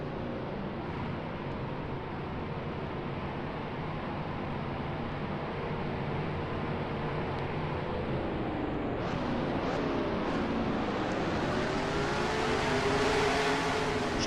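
Race cars in a sim racing game of the Daytona 500 roll down pit road, a continuous engine drone that swells slightly over the stretch, with no voices.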